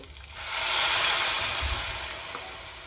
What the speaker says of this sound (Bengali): দুই বাটি গরম জল আমি এর মধ্যে ঢেলে দিলাম